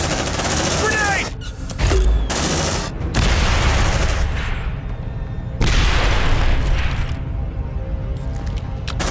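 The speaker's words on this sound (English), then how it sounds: "Grenade!" A grenade goes off in the Aliens Dark Descent video game amid a loud battle, with heavy booms and bursts of gunfire hitting in quick succession, close and dense.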